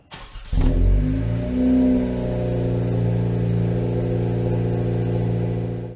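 A 2025 Honda Civic Si engine starts up and settles into a steady warm-up idle, with a brief rev right after startup and then a loud, even, close-up hum that holds for several seconds.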